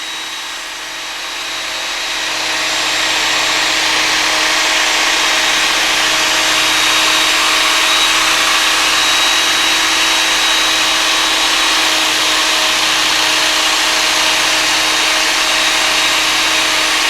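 A knife blade being worked on a strop during sharpening: a continuous close hiss with a faint high whine, rising in the first few seconds and then holding steady to the end, with no talk.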